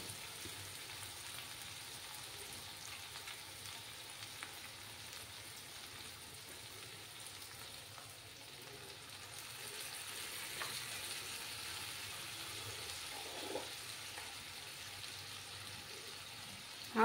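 Green chillies and a ground spice paste fry in a pan, giving a steady, faint hiss and crackle with occasional small pops throughout.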